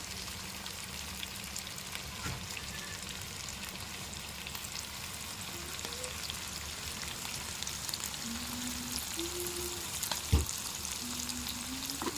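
Mutton coated in ginger-garlic paste frying in hot oil gives off a steady, dense sizzle with no pauses, fairly close and unbroken, with a few faint background tones.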